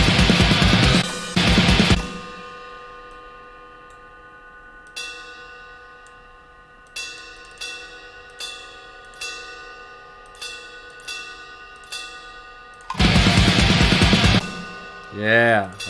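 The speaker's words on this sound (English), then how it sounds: "I just want to add in some more bells here. Do like a little quick fast bell thing." Programmed MIDI drum bell hits for a metal track, a fast run of bright metallic pings in a regular rhythm that ring and decay, with dense busy bursts at the start and end.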